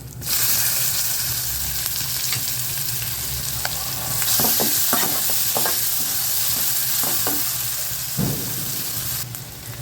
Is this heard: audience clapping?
no